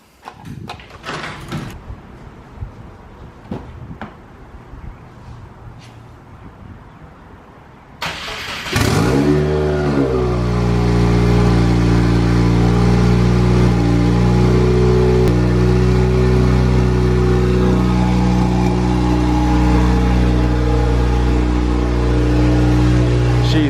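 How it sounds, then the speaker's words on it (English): A car engine cranks and catches on a cold start after a quiet stretch, then settles into a loud, steady rumbling idle with rising revs, close by in an enclosed space. "I'm gonna start up the car, give you guys a little cold start"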